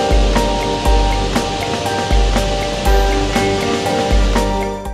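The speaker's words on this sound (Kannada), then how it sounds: "ಭಾರತದ ಅತಿ ಎತ್ತರದಿಂದ ಬೀಳೋ ಜಲಪಾತ ಅಂದ್ರೆ ಅದುವೇ ಕೊಂಚಿಕಲ್ ಅಬ್ಬಿ ಜಲಪಾತ." Kunchikal Abbi waterfall in Shivamogga district, India's highest-falling waterfall, gives a steady, dense roar of rushing water with a regular low thumping pulse beneath it.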